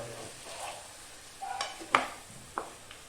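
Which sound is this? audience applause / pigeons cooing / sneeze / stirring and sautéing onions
stirring and sautéing onions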